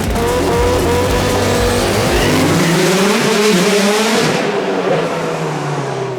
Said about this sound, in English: We're going side by side to casual cruise with some tire smoke.